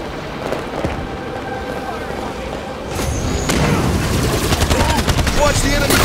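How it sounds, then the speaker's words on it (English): Enemy gunfire in Call of Duty Warzone, a muffled steady rumble of battle that swells midway into denser rapid shots and crackling bursts, loud and continuous. "Watch the enemy fire!"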